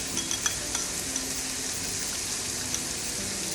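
Pad thai noodles sizzle steadily as they stir-fry in a hot pan, a soft continuous hiss with occasional faint clicks of a utensil stirring, no voices.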